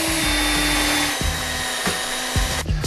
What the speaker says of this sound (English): So I want you to drill a hole right through here.